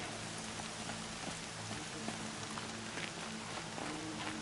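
Steady rainfall in the video game Horizon Zero Dawn, a dense hiss of drops continuing evenly throughout, with a low background hum beneath and no speech.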